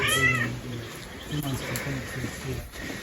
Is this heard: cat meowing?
yes